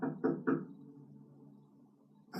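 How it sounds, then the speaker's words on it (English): Three firm, hard knocks in quick succession on a building door, followed by a lingering room echo and then quiet. "so I just knocked really hard."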